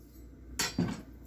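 A knife blade pressed down on a garlic clove on a cutting board gives a quick crack, then a short dull thud, close and clear in a quiet kitchen.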